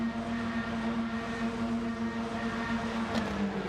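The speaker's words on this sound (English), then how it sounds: "Engine revs rise." Race car engines holding a steady high drone at the start of a World Touring Car Series round in iRacing, a continuous loud buzz with a brief rising rev near the end, no voices.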